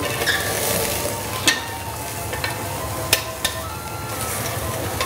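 Meat sizzling on a grill makes a continuous loud frying crackle with scattered sharp clinks and taps from utensils, and no one talks.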